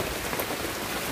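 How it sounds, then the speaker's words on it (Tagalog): Rain falls steadily and evenly across the whole moment, a soft broadband hiss of drops on a surface during an outing by a river, with no voices. "Kaso ulan man."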